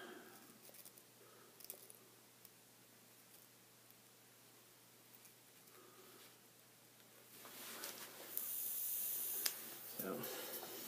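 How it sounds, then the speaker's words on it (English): Steam hisses off a dripping, partly burned vape coil wick, a faint crackle and sizzle that swells into a louder, sustained hiss near the end. "and it really puts off some steam"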